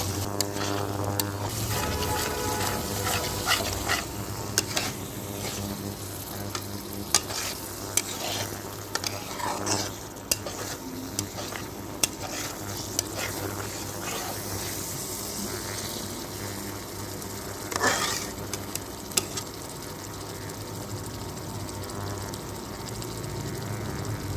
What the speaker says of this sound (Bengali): তো এখন আমাদেরকে এটাকে ভালো করে নাড়তে হবে। ভালো করে নেড়ে চেড়ে আমরা মিশিয়ে নিব।